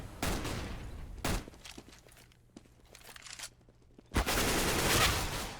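Counter-Strike gunfire during a competitive match, bursts of automatic shots and single cracks coming in clusters, loud at the start and end with a quieter stretch of faint shots between.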